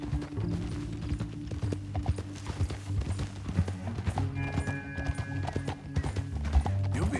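Horses gallop in the Western video game Red Dead Redemption 2, a steady loud clip-clop of hooves with an occasional whinny over a continuous musical backdrop, close and driving throughout.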